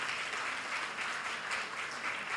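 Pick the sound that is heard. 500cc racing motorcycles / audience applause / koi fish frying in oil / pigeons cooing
audience applause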